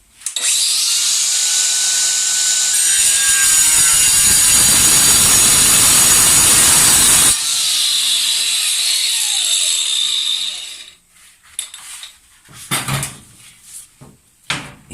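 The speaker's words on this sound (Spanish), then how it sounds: "Este disco penetra mucho más en el porcelánico, pero sigue esportillando." Battery-powered angle grinder spinning a cutting disc into porcelain tile: a loud high whine that deepens into a gritty grinding while cutting, then winds down, followed by a few scattered knocks and handling sounds.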